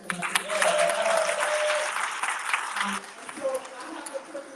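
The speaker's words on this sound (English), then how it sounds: "Clap one more time for Bank of America." An audience at a business networking event applauds a sponsor with a dense burst of clapping. It tapers after about three seconds into scattered claps and murmuring voices.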